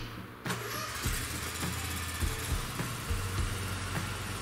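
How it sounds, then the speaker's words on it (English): A Bobcat zero-turn mower engine cranks and catches, then runs at a steady idle with a loud, even drone and a few clicks, no talk. "Now start the machine again and turn the PTO switch or mower blades on."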